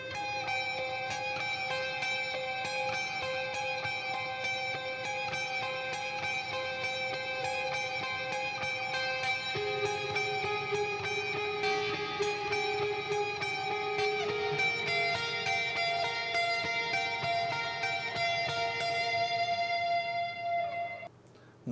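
A guitar plays a song's bridge section slowly, with sustained picked notes ringing and overlapping in a close, solo performance with no voices.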